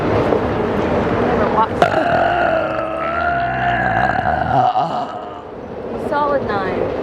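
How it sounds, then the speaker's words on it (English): A loud, drawn-out burp in a public place rumbles for several seconds, close to the microphone, with voices and outdoor background noise around it. "Was it a good burp though?"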